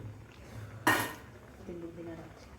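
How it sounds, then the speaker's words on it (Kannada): Pumpkin pieces tumble into a pot of simmering bassaru with one sharp clattering thud, followed by a low kitchen hum and a faint murmuring voice. "ಇವಾಗ ನೋಡಿ ಕುಂಬಳಕಾಯಿ ಹಾಕೋತಾ ಇದ್ದೀವಿ ಒಳಗಡೆ"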